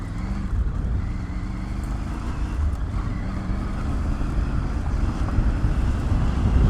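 Triumph Tiger 850 Sport motorcycle ridden over a bumpy road, a steady low engine and road rumble under heavy wind buffeting that builds slightly toward the end.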